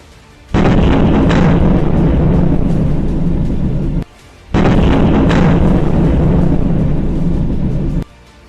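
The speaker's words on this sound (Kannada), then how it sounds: "ಹೆಲಿಕಾಪ್ಟರ್ನಿಂದ ಹಾರಿಸಿದ ಬಾಂಬ್ ಹೇಗೆ ಬೃಹತ್ ಅಪಾರ್ಟ್ಮೆಂಟ್ ಧ್ವಂಸ ಮಾಡ್ತಿದೆ" Bombs dropped from a helicopter strike residential apartment buildings in Ukraine, producing two long, loud roaring blasts, each rumbling for about three seconds with a short silence between.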